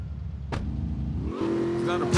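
A car engine in the video game GTA Vice City hums and then revs up into a steadier, higher drone partway through, with a voice briefly present in the mix.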